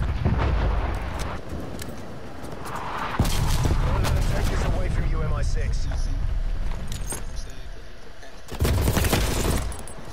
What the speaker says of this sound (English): Hostile artillery targeting Artillery inbound.